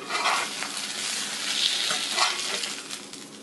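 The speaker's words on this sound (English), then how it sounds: "I got my bacon and eggs and fried taters" Bacon, eggs and fried potatoes sizzle in a pan, a close steady crackling fry with brief stirring scrapes now and then.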